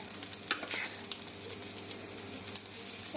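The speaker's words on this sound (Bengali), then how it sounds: "অল্প আঁচে ভেজে নিতে হবে।" Pizza dough made with puffed rice fries on a hot griddle over a very low gas flame, giving a soft, steady sizzle with faint stirring and scraping noises throughout.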